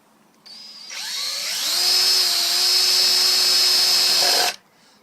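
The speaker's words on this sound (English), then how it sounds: "I'm just letting the drill do its work" An electric drill spins up with a rising whine, holds a steady high-pitched grind while boring for a few seconds, then stops abruptly.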